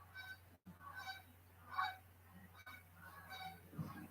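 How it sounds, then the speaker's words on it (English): Geese honk repeatedly as they fly over a house near a river, faint and distant, a series of nasal calls over a steady low hum. "Did everybody hear the geese?"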